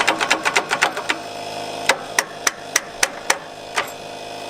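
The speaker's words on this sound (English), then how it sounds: "let's punch those pins out and see if we can get some PB blast or something in there" Rapid hammer blows punching pins out of an old abandoned tractor, a fast burst of sharp metallic strikes at first, then slower, evenly spaced single hits ringing out close by.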